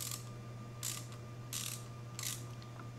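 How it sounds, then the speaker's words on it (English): Wrench ratchet unscrewing the clutch cover bolts on a Honda Grom motorcycle, giving four short, fairly quiet bursts of ratcheting clicks at steady intervals over a low steady hum, with no talking. "You just put your left hand firmly on the clutch basket, and then turn the wrench the other"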